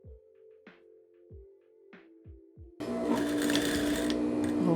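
Home sewing machine stitching jeans Bermuda shorts with topstitching: short whirring bursts with pauses as it stitches and backstitches, then a louder continuous run, close by with no talk.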